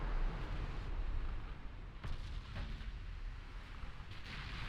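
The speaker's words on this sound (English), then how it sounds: "we can start blasting some of these smaller ships" Naval artillery fire from battleship and cruiser guns, including French quad gun turrets, in the Ultimate Admiral Dreadnoughts naval game. Deep rumbling booms run continuously, with sharper blasts near the two-second and two-and-a-half-second marks.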